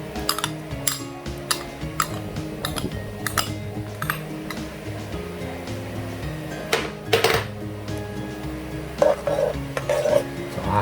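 A utensil stirs salted egg sauce with milk in a pan, scraping and clinking against the metal in an irregular rhythm at close range, with faint simmering underneath.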